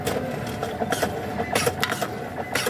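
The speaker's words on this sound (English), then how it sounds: "It's really amazing to look how the printer is printing the photos" A Cewe instant photo printer runs close by, its motor whirring steadily with rhythmic mechanical clicks and periodic louder rasping bursts as photos feed through.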